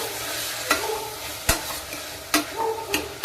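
Sliced bitter gourd sizzles in a pan as a spatula stirs it, with several sharp scraping knocks over a constant frying hiss and no voices.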